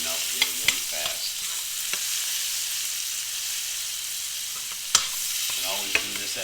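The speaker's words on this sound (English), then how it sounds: "We're going to put some butter in the pan, and we're going to baste the steak in butter." Butter sizzles and spits in a hot pan as a grass-fed ribeye steak is basted, a steady frying hiss broken by a few sharp utensil clicks and scrapes against the pan.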